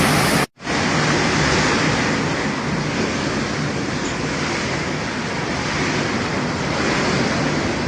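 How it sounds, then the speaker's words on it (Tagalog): Heavy rain pours down steadily with strong wind gusting through it, a dense, loud roar that fills the whole clip after a brief cut at the start, with no talking. "Bugso ang ulan, oh, 'di ba?"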